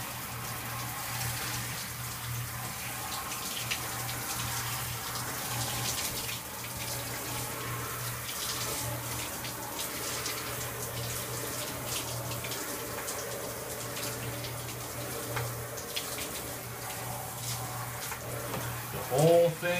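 Water runs steadily from a tap over a fencing lamé being rinsed clean, a quiet continuous splashing hiss lasting throughout with a low steady hum beneath and a brief clunk at the end.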